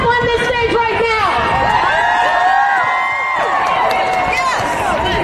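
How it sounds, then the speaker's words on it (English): A loud, dense crowd at the Women's March cheers, whoops and applauds for Rosie Perez, with shouts and voices overlapping in a sustained roar. "Give her a round of applause."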